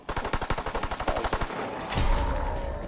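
Rapid automatic gunfire from Call of Duty WW2 Zombies on the Mountaineer starting area: a loud, evenly spaced string of about twenty shots lasting a second and a half, followed by a heavier blast and a sustained rumbling roar.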